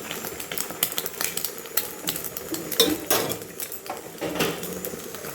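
An egg poach fries in a pan, a soft sizzle broken by sharp clinks and scrapes of a utensil against the pan at close range, with no one talking.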